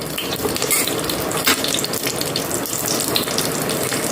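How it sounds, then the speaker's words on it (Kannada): Mustard seeds splutter in hot coconut oil as the base for a traditional village-style fish curry. A dense, steady crackling hiss fills the whole stretch at close range, with a few sharper pops and no voices. "ಈಗ ಸಾಸಿವೆ ಒಳ್ಳೆ ಸಿಡಿದಿದೆ"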